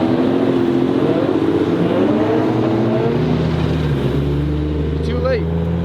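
A lowered car engine, likely a rotary Mazda RX-8, revs loudly at a night car meet in LA, a steady droning roar with pitch sweeps, later settling to a deep idle rumble; voices talk underneath.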